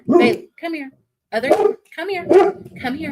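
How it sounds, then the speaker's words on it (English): A dog barks in several loud, close bursts while a person repeatedly calls it over the barking. "Excuse my dog."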